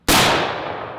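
A single sharp gunshot from a 45-70 lever-action rifle, loud and close, with an abrupt crack that decays into a long outdoor tail.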